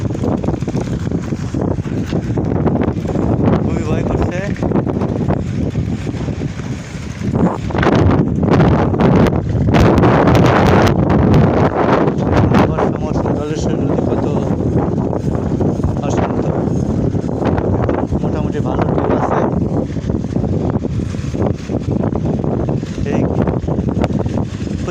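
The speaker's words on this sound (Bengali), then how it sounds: "ঝড় বাতাস বাতাস অতিক্রম করে আমাকে এগিয়ে যেতে হচ্ছে" Strong, gusty wind buffets the microphone on a bridge over a river with waves. The roar is loud and continuous, with a brief lull partway through, and a voice talks over it at times.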